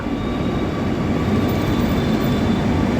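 A steady, loud rumble of a Kochi Metro train arriving close by, continuous low roar with faint high whine throughout, no voices.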